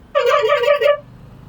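A bus horn sounds in a traffic jam, a single loud, close, wavering blast lasting about a second, with a bark-like quality. Low road rumble continues beneath it.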